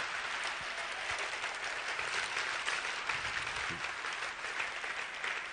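Sustained applause from an audience honoring Corleon at a Riway company gathering, a steady dense wash of clapping filling the whole stretch without pause.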